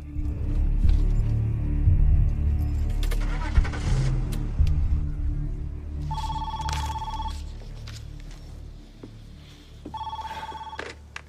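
A car engine runs and revs low and close as it pulls away, while a telephone rings in two bursts over the rumble.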